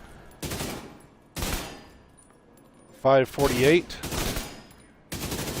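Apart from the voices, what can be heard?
King Breaker rifle gunfire in video game The Division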